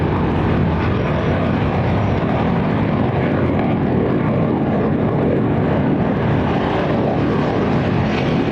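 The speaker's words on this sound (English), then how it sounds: "They send out the Fu-30s or other planes to fly around the Merida area." Su-30 military fighter plane flying over the Mérida area of Venezuela, a continuous loud, broad engine roar holding steady throughout with no voices.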